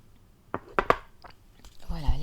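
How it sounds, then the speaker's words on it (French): A person taking a quick sip of water close to the mic, a few small wet mouth clicks and a swallow, then the start of a voice. "Je vais juste prendre une gorgée d'eau."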